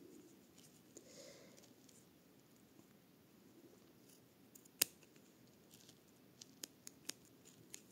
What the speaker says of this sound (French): je passe ma paire de ciseaux. On va couper et égaliser